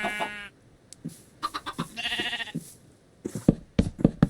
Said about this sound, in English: Hello, sheep. Come this way.